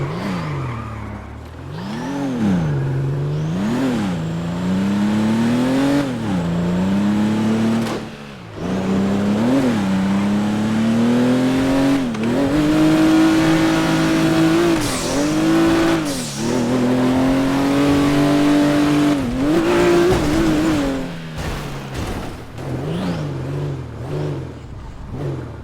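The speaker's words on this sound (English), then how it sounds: "You guys hear that backfire though?" Custom car engine in the game FiveM revving hard in repeated rising and falling pulls, with sharp backfire pops between throttle blips, loud and close throughout.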